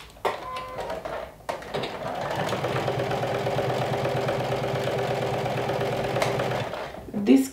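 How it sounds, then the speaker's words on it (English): A sewing machine runs steadily for several seconds as it stitches a collar seam with a half-inch seam allowance, a close, even mechanical hum that starts and stops with brief gaps around it. "So we're going to stitch them with a half an inch seam allowance."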